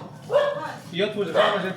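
Dogs bark and yip close by at a dog rescue in Cambodia, a few loud, strained barks with whining tones. People talk around them.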